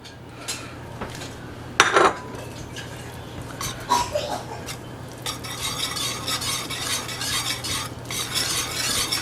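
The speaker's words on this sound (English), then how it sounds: "We're just going to stir this in, and then we'll season it with salt and pepper." Grated white cheddar cheese being stirred into a hot sauce, continuous close scraping and swishing of a utensil in a pan with occasional clinks against the rim, over a faint steady hum, no talking.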